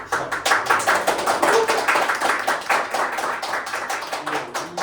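Audience applause at a youth debate forum in Korea's Yeongnam region, made up of dense clapping from a crowd that stays steady and fairly loud throughout, with sharp individual claps standing out and no talking.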